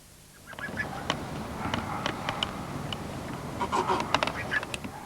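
A rescued swan with a dislocated wing gives a series of short, nasal honks at close range, scattered irregularly over a soft background murmur.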